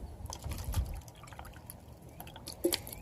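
Water from a filter trickles and drips into a glass, quiet and close, with a few soft clinks near the end and no voices.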